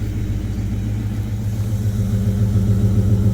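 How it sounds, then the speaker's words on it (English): A Ford Mustang engine idles after a cold start in frozen weather with no block heater, a steady low rumble close by that swells slightly toward the end, with no talk over it. "She fired up, guys. You gotta give the Mustang credit for that."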